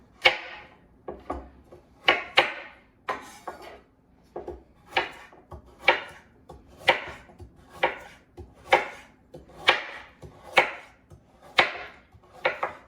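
A knife cuts carrots for pot roast with root vegetables, striking a cutting board in a steady series of about a dozen crisp, close chops, evenly spaced with short pauses.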